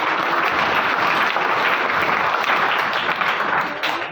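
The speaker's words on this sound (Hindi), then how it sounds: "उनके फादर के लिए जोरदार ताली बजा दो" A large audience applauds for cricketer Prithvi Shaw's father during a motivational talk, a dense, steady roar of clapping that holds throughout and eases slightly at the end.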